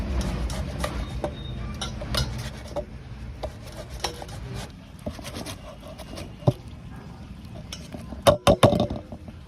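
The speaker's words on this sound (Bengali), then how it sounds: "তো তার জন্য একটা টমেটো আমি এখানে একটু গ্রেট করে নেব" Tomato rubbed against a metal grater, making close, repeated rasping scrapes with scattered clinks, irregular in rhythm and ending in a few louder knocks, with no talking.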